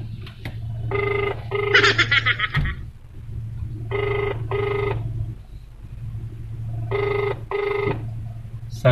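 A telephone rings on an unanswered outgoing call, three paired ring bursts evenly spaced over a low steady hum, with a short louder clatter after the first pair.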